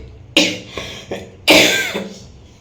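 Coughing from a woman who has been ill with heavy phlegm and is on strong medicines, heard as four separate harsh, close coughs, the last the loudest and longest, with no talk.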